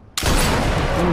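A sniper rifle shot in Sniper Elite 4 during the Bitanti Village mission: a sudden, sharp, loud crack after brief quiet, trailing into a heavy, sustained booming echo.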